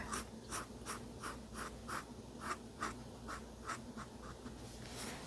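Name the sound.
drawing a frog with markers on paper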